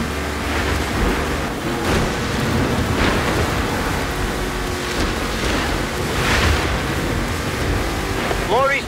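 Thunder rumbles continuously in the racing video game Forza Horizon 4 amid heavy rain-like wash and roaring noise, loud and dense throughout.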